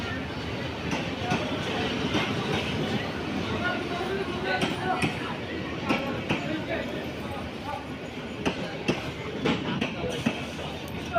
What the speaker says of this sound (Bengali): ট্রেনটি এখন এখানে থামবে।